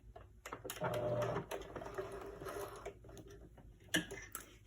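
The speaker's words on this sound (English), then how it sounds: "So I sewed there, so it's nice and neat, and it got this elastic in there good" A sewing machine stitching elastic onto a fabric mask, with a short steady run of rapid needle chatter followed by quieter clicks and handling, faint and close with no talking.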